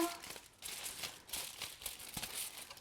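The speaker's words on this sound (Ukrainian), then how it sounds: "Я просто беру фольгу і ось таким чином пакую" Aluminium foil crinkles and crumples close up as it is wrapped around a block of polystyrene foam for a marshmallow flower bouquet holder, a continuous soft rustling with a few sharper crackles.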